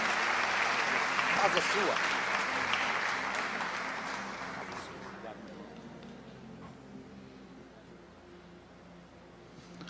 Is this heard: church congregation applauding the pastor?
yes